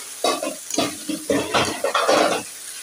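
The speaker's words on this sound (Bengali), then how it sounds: "তরকারি কষিয়ে নিচ্ছি" Chicken and potato curry being stir-fried in a wok, with a spatula scraping and stirring in rapid uneven bursts over a steady sizzle, close and fairly loud.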